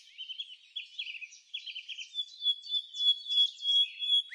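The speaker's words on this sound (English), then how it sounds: "the Bahama Mockingbird?" A Bahama Mockingbird sings a varied song of quick high trills and whistled phrases, repeated in short bursts, clear against a quiet background.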